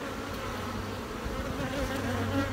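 Honey bees buzzing steadily around an open hive during an inspection, a dense, continuous drone with no pauses and no voices, holding at an even level throughout.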